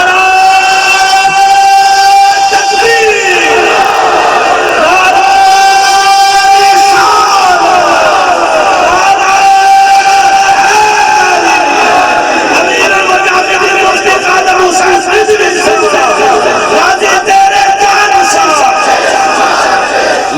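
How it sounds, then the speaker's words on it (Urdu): A large crowd at a religious gathering loudly chants the Labbaik slogan in unison, with sustained massed voices and rhythmic shouted calls filling the whole stretch without pause. "لبیک دا نعرہ"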